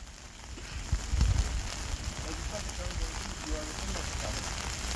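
Steady rain patters on surfaces at an outdoor protest rally, giving a soft continuous hiss with faint crowd and voice sounds underneath.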